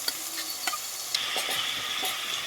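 A tomato and dried red chilli masala paste fries in a pan, with a steady close sizzle broken by several sharp scraping stirs of a spoon against the metal.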